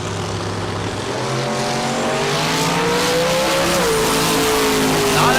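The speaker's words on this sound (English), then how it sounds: "Taylor Wright and that LS Turbo is going to pull right on by at the top end." Drag racing cars, including an LS turbo-powered car on small tires, accelerate hard down the strip, engines roaring loud and close with rising pitch as one pulls ahead at the top end.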